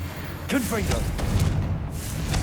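Explosive Confringo spell impact in Hogwarts Legacy: a deep booming rumble with layered combat effects and a brief voice-like vocal cry early on, sustained at steady loudness throughout.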